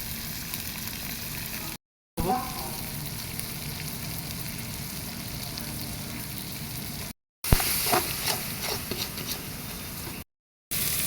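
Mutton fat fries in a pan with a steady, close sizzle that runs throughout, a few brief bursts of crackling and stirring rising above it partway through, and no talk.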